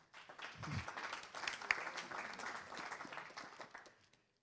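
Indoor audience at a cycling and walking mobility presentation gives a sustained round of moderate, fairly distant applause lasting a few seconds before fading out.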